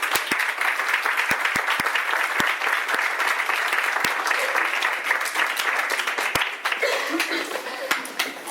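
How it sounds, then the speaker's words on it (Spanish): A welcoming round of applause from an audience at a talk, sustained and fairly loud with sharp individual claps popping out, tapering slightly near the end. "pues un aplauso de bienvenida."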